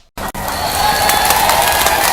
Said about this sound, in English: You can see the Burmese are applauding.